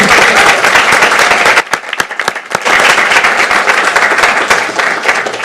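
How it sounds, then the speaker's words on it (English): An audience at a school board meeting applauds a group of high school students, loud sustained clapping from many people with a brief dip partway through before it swells again. "Can I get a quick round of applause for these young people?"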